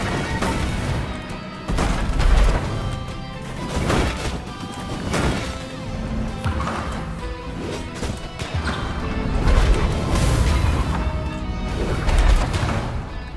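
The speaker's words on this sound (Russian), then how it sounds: "Че это за странные взрывы?" Strange explosions in the game Death's Door: a series of heavy booming crashes roughly every two seconds, loud and close, over a continuous rumbling game soundscape.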